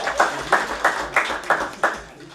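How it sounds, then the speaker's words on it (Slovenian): Sparse, rhythmic hand clapping at a municipal council session, about six evenly spaced claps from a small group, close and moderately loud over a faint room murmur. "Aplavz je zdaj temu primerno večji."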